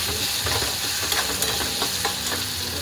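Cauliflower and potato curry with spices being stirred and sautéed in a hot pan, a steady loud sizzle with scattered scraping strokes of the spoon, close up.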